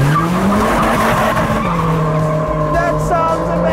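A special edition Toyota Yaris GRMN launches hard on a race track, its tires squealing and skidding over a loud, steady engine roar that dips briefly midway and then holds.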